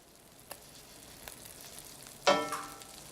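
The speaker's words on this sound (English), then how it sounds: "You're gonna wanna hear that sizzle when the fish hits the pan." Quiet kitchen room tone with a couple of small clicks, then a sudden loud hiss of salmon fillets sizzling skin side down as they hit a hot pan, fading slightly.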